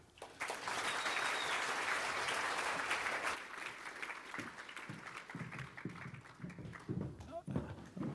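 Audience applause for an Aboriginal dance troupe at the Queensland Australian of the Year Awards, a dense sustained round of clapping from a large crowd that gradually thins into scattered claps.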